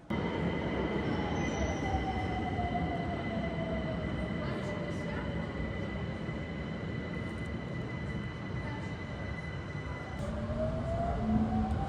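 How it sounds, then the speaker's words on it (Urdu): Steady rumble of a Mashhad metro train in motion, with wheel squeal and rising and falling motor whine, heard continuously from inside the carriage. "مشہد میں میٹرو کا سفر کر رہا ہوں وکیل آباد کی طرف"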